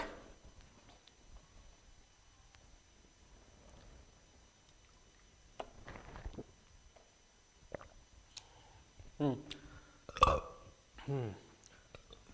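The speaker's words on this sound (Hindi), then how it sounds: "पानी पीने से डकार आ रही है" A man burps after drinking water, giving a couple of short, guttural belches near the end after a mostly quiet stretch with faint background noise.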